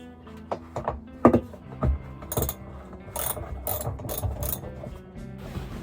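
A ratchet wrench clicks in short bursts while unbolting a truck camper from the inside, close and sharp, with a few knocks and thunks against the camper wood between runs.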